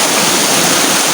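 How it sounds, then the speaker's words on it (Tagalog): Water flowing in a stream rushes in a dense, steady broadband wash, loud and close, with no other sounds. "Napit na po ko din sa may sapa guys para makainom po ang tubig"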